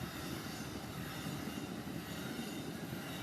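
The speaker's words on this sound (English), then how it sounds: "It was an Amtrak train." An Amtrak passenger train rumbles past close by, a steady broadband roar of wheels on rails with a heavy low end, continuous throughout.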